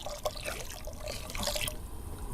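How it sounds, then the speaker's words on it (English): Hot water and vegetable stock granules are poured into a watery coconut curry with butternut squash and sweet potato, making a steady close liquid splashing and trickling for a couple of seconds. "And now some vegetable stock, and that's to say hot water and vegetable stock granules"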